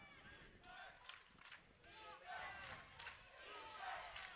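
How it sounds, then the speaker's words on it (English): Water polo crowd at the 2009 California State Women's Championship at Golden West chanting for defense, loud rhythmic group shouts swelling in repeated bursts across the hall, with no commentary over it. "you can hear the Golden West crowd shouting defense, defense."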